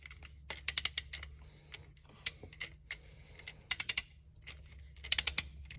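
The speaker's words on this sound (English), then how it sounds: "This tap actually cleans up the threads a little bit if there's any little burrs or boogers on them on the way down to the bottom" Thread tap cutting and cleaning threads in a stripped head bolt hole of a Hyundai 3.3/3.5 engine, heard as irregular dry clicks and ratcheting ticks in short clusters over a low steady hum, close and fairly faint.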